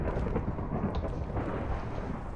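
Thunder rumbles steadily from a custom storm in a video game, with a dense, continuous roar and a hiss like rain over it, no voices.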